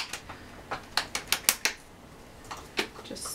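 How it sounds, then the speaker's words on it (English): Several short, sharp sprays of glimmer mist hiss onto gessoed white cardstock in quick succession, then pause before a few more bursts follow. "spray a couple of spots with some glimmer mist"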